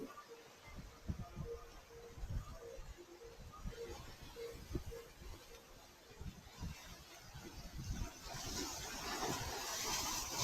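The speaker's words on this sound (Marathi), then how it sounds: "शांत लाटा" Calm sea waves at a rocky Konkan beach at sunset: low, gentle rolling wash with wind rumble, building slightly toward the end, no voices.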